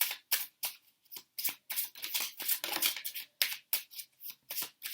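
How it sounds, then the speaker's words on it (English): Tarot cards being shuffled by hand, a quick run of crisp riffling and slapping bursts that come one after another, close and fairly quiet, with no talking. "So let's now keep shuffling."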